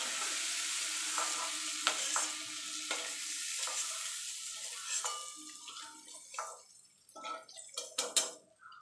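Pointed gourd (potol) dish stirred in a pan, gentle sizzling with scattered scraping clicks that grow busier and louder toward the end, no voices.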